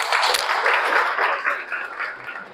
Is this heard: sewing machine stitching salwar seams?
no